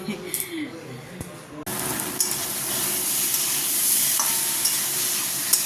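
Potato and pumpkin curry, with fried pointed gourd nearby, sizzles steadily in a pan after a quieter opening, a continuous broadband frying hiss with occasional stirring scrapes throughout.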